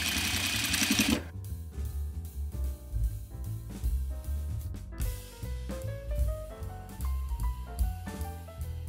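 A sewing machine stitches shirt fabric in bursts, its rapid mechanical clatter starting, pausing and restarting, close and fairly loud with no talk.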